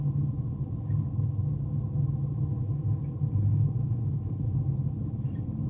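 Steady, low rumble of jammed-up traffic in Chicago: a constant engine drone close by, with no voices over it.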